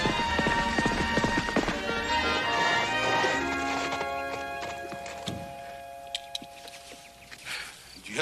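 Horse hooves clip-clopping at a steady pace, fairly close, with a brief whinny-like sound and other movement noises around them, in a Western ranch setting.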